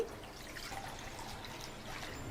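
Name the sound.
drinking water poured into a wide kadai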